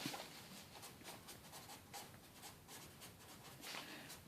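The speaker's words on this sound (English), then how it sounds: "So let's go ahead and write that out." Pen or marker writing out statistics notes, a steady scratchy stroking that runs continuously for a few seconds with small pauses between strokes, close and fairly quiet, with no talking.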